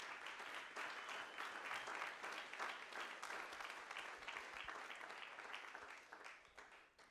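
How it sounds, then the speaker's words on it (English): An audience at a PropTech South Africa event gives sustained applause, many hands clapping densely for several seconds before tapering off at the end, heard faintly. "I think we should give them a huge round of applause."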